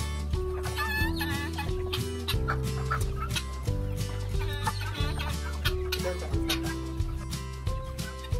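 Many white and black Basilan hens cluck and chatter together in a backyard flock, a dense, steady chorus of overlapping calls near and far with constant low background hum.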